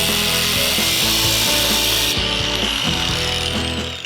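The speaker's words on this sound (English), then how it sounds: "I'm gonna chop down this tube insert so it's just a regular nut." Power saw cutting down a steel tube insert into a plain nut in a metal fabrication shop, a loud continuous grinding whine with rhythmic pulsing strokes throughout, close up with no talking.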